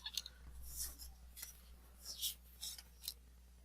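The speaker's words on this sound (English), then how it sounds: "I'm folding the tabs." Paper tabs of a Valentine's Day card being folded, heard as faint, close crinkles and soft rubbing scrapes that come in several short bursts over a quiet background.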